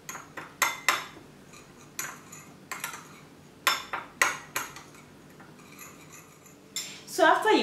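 Cloves and coconut oil being mixed in a small dish, with sharp scattered clinks and taps of a utensil against the dish, close and fairly quiet, ending in a brief louder scrape.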